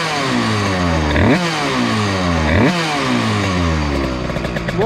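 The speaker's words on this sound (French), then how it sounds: "C'est mon moteur qui vibre." A moped engine vibrates and revs up repeatedly, three rising revs in a steady cycle, loud and close, with a buzzing, rattling exhaust tone throughout.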